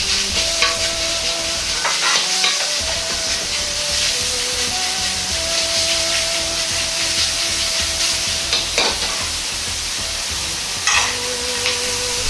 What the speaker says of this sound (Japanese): 次にひき肉を炒めていきます。